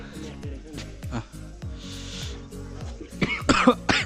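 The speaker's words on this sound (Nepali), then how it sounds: "मलाई नि खोकी लाग्यो" A person coughs several times in quick succession near the end, following talk from people nearby during a day on the Ghorepani Poon Hill trek in Nepal.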